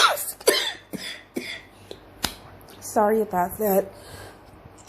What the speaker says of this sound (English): That COVID cough just will not go away